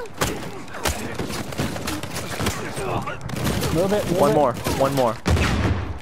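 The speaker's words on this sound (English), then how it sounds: "I shoot the enemy." Rapid gunfire from the Uncharted 4 co-op video game bursts out in quick volleys, loud and close, while players talk excitedly over the shooting.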